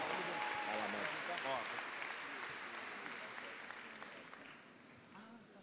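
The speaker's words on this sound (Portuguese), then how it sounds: "Aplauda mais uma vez esse casal abençoado." An audience at a church conference claps warmly for a couple, with dense applause and voices mixed in, starting strong and gradually tapering off over several seconds.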